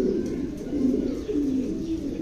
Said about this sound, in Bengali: black shocking